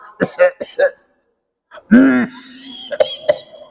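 A few short coughs and throat-clearing noises up close, separated by a brief silence, with a rough, strained voiced sound in the middle.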